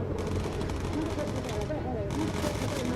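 A gunner fires the bomber's machine gun in the video game Bomber Crew, with rapid bursts of rattling fire amid a dense rumbling din of engines and combat, loud and continuous across the moment.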